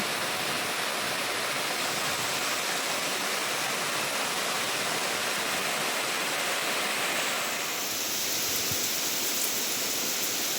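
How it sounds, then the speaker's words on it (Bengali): Heavy rain pours down in a dense, continuous roar, steady and loud throughout, with no voices. "আজ কিন্তু প্রচণ্ড বৃষ্টি হচ্ছে।"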